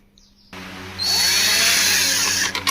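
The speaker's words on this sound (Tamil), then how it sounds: "இப்போ நம்ம அடியில் ஸ்க்ரூ பண்ணிக்கலாம்" A power screwdriver drives screws into the base of a Preethi Steel mixer, its motor whining up loud and close after a short quiet start, then cutting off with a few brief bursts.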